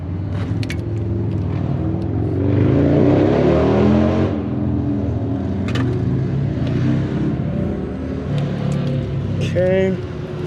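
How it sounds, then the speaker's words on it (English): Racing motorcycles pass outside a shop, their engines rising and falling in a swelling whir that sits under a person talking nearby, with clinks of tools around a Chevy Duramax. "got some racing motorcycles out there"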